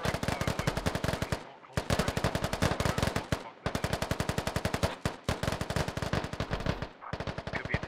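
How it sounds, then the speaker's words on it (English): Rapid automatic gunfire in a military video game, long loud bursts of machine gun fire rattling almost without pause, broken by a few brief gaps, with no talking over it. "Some of the straight fire coming right now."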